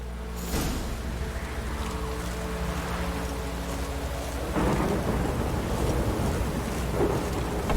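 Thunder rumbles with steady heavy rain in a storm in the video game The Witcher 3, a deep continuous roar that swells louder midway, with no voices.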